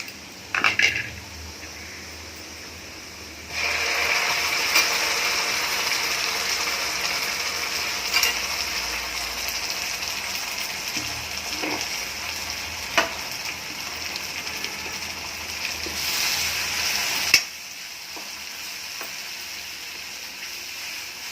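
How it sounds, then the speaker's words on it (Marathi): Raw ground spice paste sautéed in a pan after onions have browned, a steady frying hiss that starts abruptly and runs for several seconds with occasional scraping clicks, then cuts off. "आता त्याच्यामध्ये आपण जे वाटलेला मसाला आहे कच्चा, तो आपण आता परतून घेणार आहोत."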